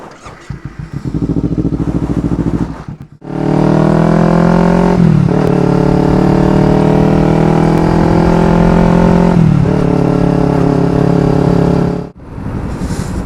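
A Kawasaki Ninja 300 motorcycle engine idles briefly, cuts out, then roars steadily as the bike rides along, its pitch rising and dipping with gear changes.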